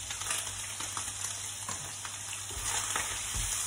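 Garlic frying in a pan over the highest heat gives a steady broadband sizzle with faint crackles and pops, close and continuous without talk.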